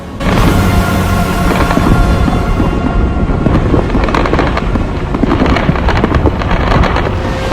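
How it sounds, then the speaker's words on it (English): Fireworks bursting outdoors on a cold, windy night, a dense continuous barrage of crackling blasts and booms with wind rumble throughout, loud and sustained with no pauses. "wait a second, it's fireworks."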